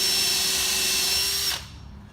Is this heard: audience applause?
no